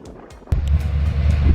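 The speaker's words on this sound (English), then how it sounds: "It's crazy windy out here today." Strong wind buffets the microphone in heavy low rumbling gusts, starting suddenly and continuing loudly outdoors.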